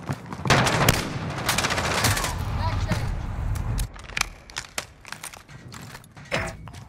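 Rapid automatic gunfire bursts in the Call of Duty Modern Warfare video game, loud and close, followed by scattered single shots, with game voices calling out over the action.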